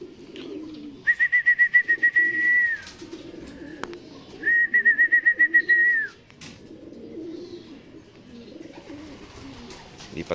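Pigeons in a loft give soft rhythmic calls while drinking Belgasol, with two bursts of pulsing whistle-like tones standing out over low murmuring and faint shuffling nearby.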